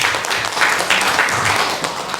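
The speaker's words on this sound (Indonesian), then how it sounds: "Tepuk tangan untuk kita semua" A seated audience at a talk on religious moderation breaks into sustained applause, many hands clapping in a dense, even wash that holds steady and fairly loud throughout.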